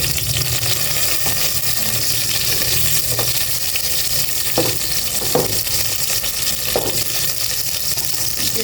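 Onions fry in a pan with a loud, continuous close-up sizzle, marked by a few brief knocks and scrapes from stirring.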